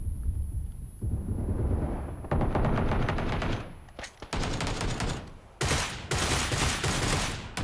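A Groza rifle fires in rapid full-auto bursts during a battle royale video game, loud and close, with short pauses between volleys.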